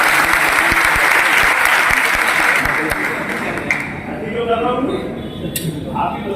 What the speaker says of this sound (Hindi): तो ताली बजाइए उनकी पसंद।